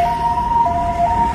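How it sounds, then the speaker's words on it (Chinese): Wailing ambulance siren arriving at the scene of a BMW sedan crash on a divider outside a tunnel, a loud, steady two-tone wail with smooth pitch shifts, heard alone over low road rumble. "救护车抵达现场"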